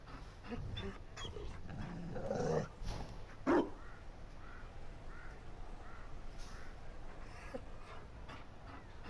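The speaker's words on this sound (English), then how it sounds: "You found a dog." A Mabari hound in the video game Dragon Age: Inquisition gives a couple of short barks and low growling sounds over a steady game ambience, moderately close.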